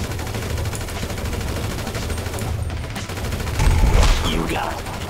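Dense, continuous gunfire from a weapon in GTA 5 Online's rivalry mode, rapid shots running steadily throughout with a heavier burst near the end, loud and close, with game background noise underneath.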